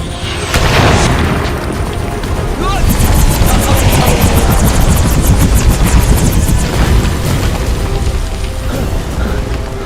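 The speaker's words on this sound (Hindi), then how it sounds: "जल्दी हेलीकॉप्टर में आ जाओ, बिल्डिंग अब गिरने वाली है।" Loud helicopter in an action movie scene, with rapidly chopping rotor blades and a heavy rumbling roar, continuous throughout, with voices shouting over it.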